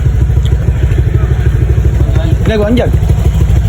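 A motorcycle engine idles and revs close by with a steady low throb and rattly clatter, while people talk over it.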